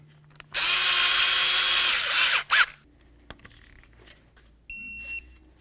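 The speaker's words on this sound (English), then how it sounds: "With them all started, let's snug them up and then torque them to 55 inch-pounds." A power tool snugs up the wheel bearing mounting bolts on a 1999-2007 Ford Super Duty F-250, a loud whirring burst of about two seconds, then brief clanks and a second short whir.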